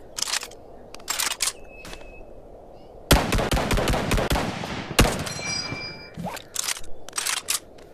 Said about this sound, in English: You can hear that iconic Garand ping after the 8 shots.